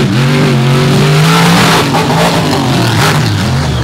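Monster trucks, including the Dirt Crew Dozer, race side by side at Dragway 42, their engines roaring loudly and steadily with shifting, revving pitch up close and no talk over them.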